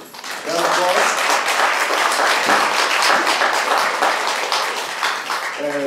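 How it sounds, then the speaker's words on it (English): Audience applause at a mayoral candidates' forum greets the challenger as he takes the stage, a dense, steady wash of clapping that swells in after a brief voice and lasts several seconds before a voice returns. "Round of applause."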